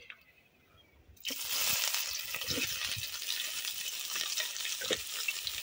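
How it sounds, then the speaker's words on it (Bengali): Chopped onion dropped into hot oil with bay leaf, cardamom and cinnamon, bursting into a loud, steady sizzle with occasional stirring scrapes, close and without talk. "পেঁয়াজটাকে একটু লাল লাল করে ভেজে নেব"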